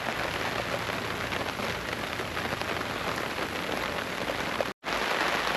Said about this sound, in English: Crazy amount of rain.